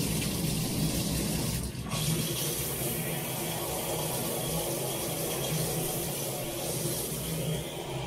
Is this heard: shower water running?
yes